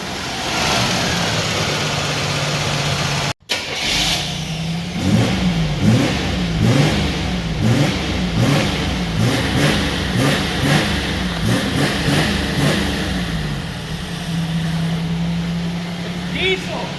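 A G-body car engine idles steadily, then revs up repeatedly in a rhythmic series of throttle blips before settling back to idle, loud and close, with no belt squeal.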